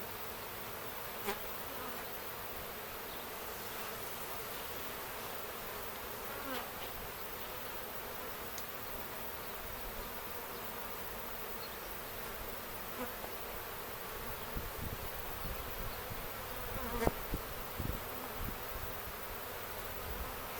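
Honey bees buzz continuously in a dense hum around beehive supers, with individual bees zipping close past now and then amid faint rustling.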